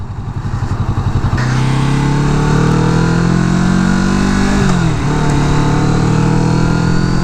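A 2017 Kawasaki Vulcan S cruiser motorcycle engine revs up to about 6,000 RPM, loud and close, its steady drone rising and holding high with a brief dip and recovery partway through.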